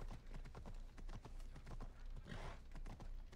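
Horse hooves clip-clop in a steady rhythm, close and loud, with a brief whinny partway through, in the Assassin's Creed Odyssey video game while the horse stands on a rooftop.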